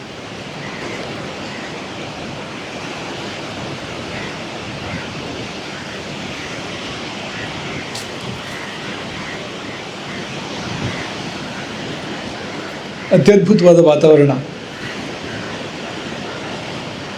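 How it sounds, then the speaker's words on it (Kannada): Sea waves roar steadily on a seashore at Maravanthe, a continuous broad wash of surf with wind, while a voice speaks briefly near the end. "ಅನುಕ್ಷಣವೂ ಕೇಳಿಬರುವ ಸಮುದ್ರದ ಭೋರ್ಗರೆತ"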